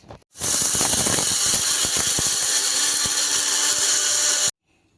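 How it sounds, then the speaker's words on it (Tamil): A kitchen mixer grinder starts up with a loud, harsh whir and rattles as it grinds roasted urad dal into powder. It runs steadily for about four seconds, then cuts off abruptly. "வறுத்ததை இப்போ மிக்சியில் போட்டோம் அரைக்க போகிறோம்"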